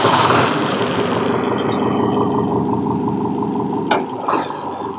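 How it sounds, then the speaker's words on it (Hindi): A Farmtrac 6055 Powermaxx T-20 tractor engine runs steadily at a low, rumbling idle, loud and close, with a couple of brief clanks near the end. "आप देख रहे हैं कितना अच्छा ये ट्रैक्टर जो है आसानी से चल रहा है।"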